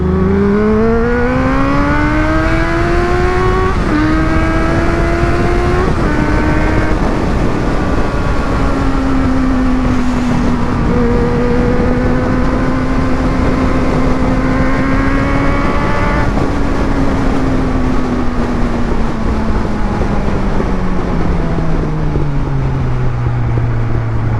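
A Suzuki Bandit 600 motorcycle out on a ride, its engine droning steadily and loudly with rising and falling pitch as it shifts and accelerates, under constant wind rush and with no talk.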